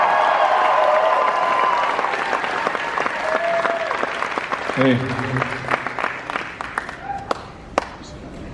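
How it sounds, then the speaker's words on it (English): A convention audience at FanX Fall 2019 gives a loud, dense round of applause that gradually thins into scattered claps, with a few shouts and someone speaking over the tail. "Give a huge round of applause, everybody,"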